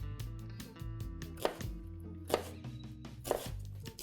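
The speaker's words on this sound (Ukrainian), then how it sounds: "Цибульку шинкуємо дуже міленько." A knife finely chops onion on a board, with sharp, rhythmic taps and a few louder strikes standing out over quiet background music.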